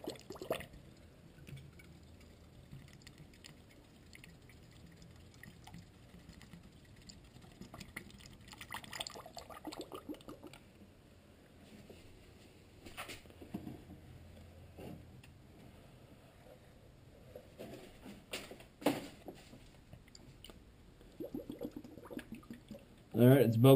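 Coolant or antifreeze poured into a car's cooling system during a thermostat replacement, a low, steady liquid trickle and gurgle running quietly through most of the stretch, with a louder burst near the end.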